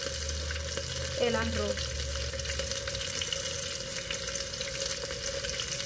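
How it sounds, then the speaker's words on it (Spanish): Shrimp frying in a pan for homemade sushi, a steady loud sizzle and crackle filling the scene while a voice speaks briefly over it. "Están los camaroncitos friéndose, vamos a voltearlos, están quedando crujientes"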